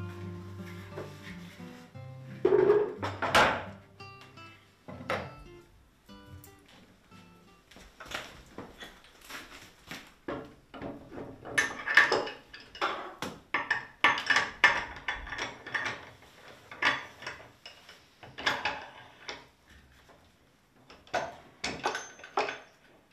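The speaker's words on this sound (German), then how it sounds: "Stefan ist gerade dabei, einen schon mit der Kettensäge vorbereiteten Block aus Zirbenholz auf der Arbeitsunterlage zu befestigen." A pre-cut stone pine (Zirbe) wood block, roughed out with a chainsaw, is clamped onto a carver's workbench, with irregular close wooden knocks, clunks and metallic rattles coming in bursts.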